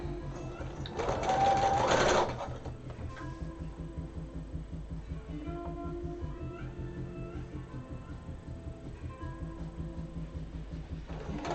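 Home sewing machine stitching steadily with a rhythmic mechanical chatter throughout, louder whirring burst near the start, alongside a meowing cat.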